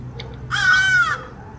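A bird caws in the video game Hello Neighbor, a single loud drawn-out crow-like croak lasting about half a second over a quiet background, preceded by a couple of faint clicks.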